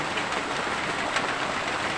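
Rain falls steadily during home cooking of chicken tinola, a dense, even hiss that stays constant and fairly loud, with no talk over it.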